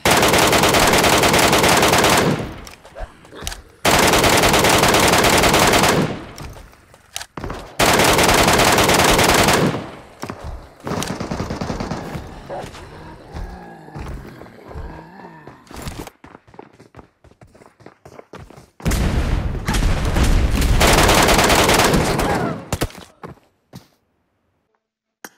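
Machine gun fire in PUBG Mobile's Metro Royale mode arrives in several long, loud sustained bursts, broken by quieter stretches of footsteps and movement, with a final burst near the end.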